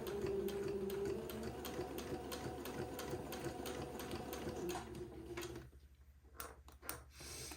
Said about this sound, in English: so just sew the entredot to the diaper cover, taking your pins out as you come to them